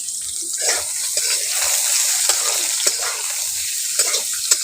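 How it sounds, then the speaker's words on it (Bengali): Potatoes tossed into half-fried onions and stirred in a pan, a soft crackling sizzle with scraping and clinks from the spoon in irregular bursts, close up, no voices. "আলুগুলোকে নাড়াচাড়া করে একটু ভেজে নেব।"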